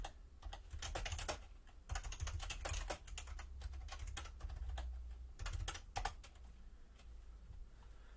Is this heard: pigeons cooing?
no